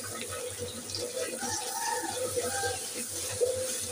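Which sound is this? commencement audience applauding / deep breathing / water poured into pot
water poured into pot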